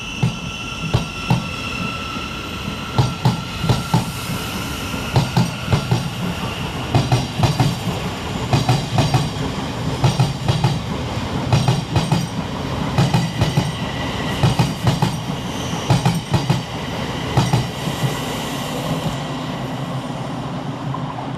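Class 700 Thameslink train 700 155 at Farringdon station, London, working a Horsham to Peterborough service: steady rhythmic clickety-clack of wheels over rail joints with a low rumble, continuing close and loud throughout.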